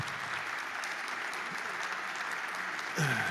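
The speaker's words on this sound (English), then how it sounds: "Round of applause for Grant Gilliam and Sean Bill." Audience applause at an onstage conference talk on Bitcoin, AI and energy in Tennessee, a steady wash of clapping throughout, then a voice begins speaking near the end.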